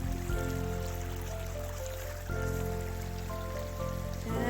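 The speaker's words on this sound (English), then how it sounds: "So here's the little creek." A little creek in a green wooded hollow flows steadily, a faint, soft trickling wash that continues throughout with no voices.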